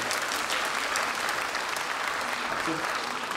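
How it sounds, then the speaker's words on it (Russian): Concert audience at a Loktev Ensemble anniversary show claps loudly and continuously, dense applause with a few voices faintly audible beneath it. "Спасибо ей большое и точно такие же аплодисменты."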